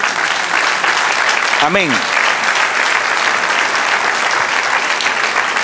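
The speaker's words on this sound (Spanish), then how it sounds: "Sí, si quiere aplaudir, aplauda." A church congregation applauding during a sermon, loud continuous clapping filling the room, with a voice calling out briefly partway through.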